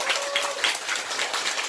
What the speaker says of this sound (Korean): 박수 한번 네